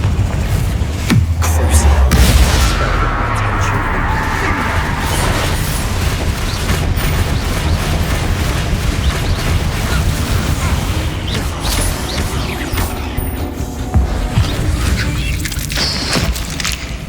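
Confringo and Bombarda spell explosions in Hogwarts Legacy, fired at spiders inside a tomb: loud booming blasts and crashing impacts over a dense, continuous game soundscape, with a heavy burst early on.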